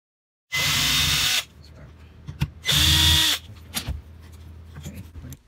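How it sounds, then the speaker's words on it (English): A power drill backs screws out of an electrical wall outlet in two loud, close, whirring bursts of about a second each, separated by quieter clicks and handling noises. "Remove the 2 screws off of the electrical outlet."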